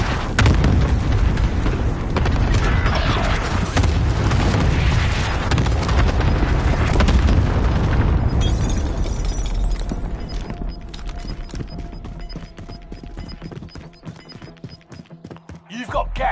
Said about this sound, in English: Cluster strike is active.